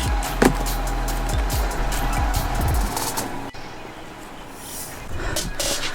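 A Jeep Gladiator backs slowly onto ramps, its engine idling low under scraping and creaking from the tires and ramps for about three seconds, then a sharp cut leaves quieter, fainter rumbling with occasional knocks.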